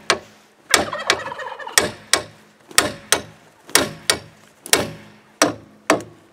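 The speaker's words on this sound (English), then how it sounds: "all I do is just hammer on the casting right here." Hammer blows ring out on the metal knuckle casting around a ball joint on a 2008 Chevrolet Aveo's front suspension, about ten sharp, loud, close strikes at a steady, slightly uneven rhythm, each with a short metallic ring.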